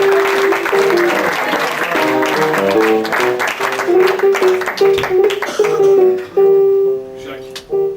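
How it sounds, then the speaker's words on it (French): An audience at a café-théâtre show in a Club Med resort in the Alpes d'Huez claps under musical tones and voices. The applause is fairly loud and continuous, with talk over it, then breaks into uneven bursts near the end. "Voilà, on peut les applaudir les géants."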